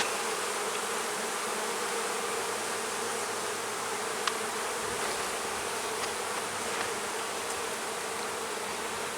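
Honey bees buzzing densely and continuously during a beehive inspection, a thick steady hum from many insects close by, with no talking.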